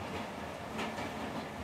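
A train rolls along the rails with a continuous rumbling rattle, heard from inside or close by, steady and fairly quiet.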